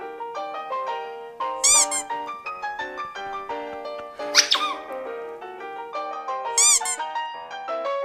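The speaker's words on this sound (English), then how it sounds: "I'm not sure if that was like the guy is holding a squeaky toy or the bird learned that" A bird repeatedly makes high, squeaky toy-like calls, loud and close, with a few sharper squeals and no talking.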